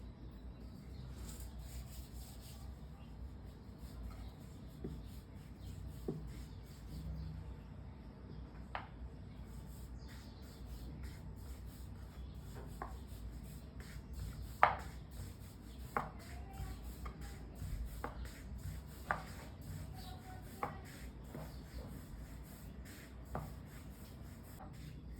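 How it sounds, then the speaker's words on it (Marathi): A rolling pin works chapati dough on a board with a soft, continuous rubbing and rolling, punctuated by faint clicks and taps, quiet and close with no talk. "नेहमी जशी पोळी लागते तशीच मी इथे लाटून घेते"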